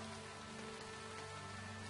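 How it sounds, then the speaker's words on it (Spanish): Acid rain falls in the video game Starbound as a soft, steady hiss of droplets with no voices over it. "¿Porque es lluvia ácida?"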